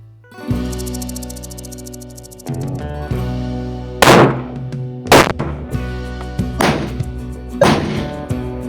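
A Smith & Wesson .500 Magnum revolver with an 8-inch-plus compensated barrel, bear-defense trail gun, fires four loud, sharp blasts in quick succession over a sustained musical backing.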